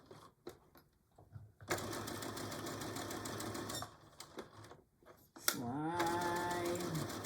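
A sewing machine stitches a pillow cover in quick bursts, including back stitching, with a rapid mechanical chatter, short pauses and a whirring restart near the end.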